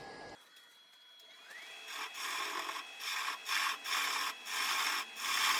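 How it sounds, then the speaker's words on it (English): A 1/2-inch bowl gouge hollows the inside of a wooden bowl on a lathe, producing a steady scraping rush of wood cutting that swells in repeated rhythmic passes with short dips between, close and alone without talk. "I'm just using my 1/2-inch bowl gouge to do all of the hollowing out"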